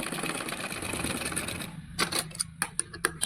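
A sewing machine runs steadily while stitching piping onto a blouse, then breaks into a few short separate clicks and taps near the end.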